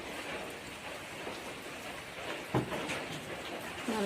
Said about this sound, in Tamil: காலையில் நேரம் ஸ்கூலுக்கு போகிற மாதிரி மழையும் கிளம்பிடுது